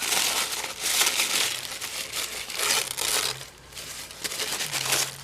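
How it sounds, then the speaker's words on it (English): Wrinkly present-wrapping tissue paper with bits of tape on it is crumpled and ripped into fairly big pieces by hand, giving continuous close crinkling and tearing bursts in uneven waves without speech. "So I'm just going to rip this in pieces, some fairly big pieces, and it's really wrinkly."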